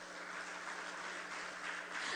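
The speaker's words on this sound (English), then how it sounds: "he deserves a round of applause for that" Audience at a PNM political public meeting in Trinidad and Tobago applauding a speaker, a steady broad wash of clapping that holds at an even level for the whole stretch with no talk over it.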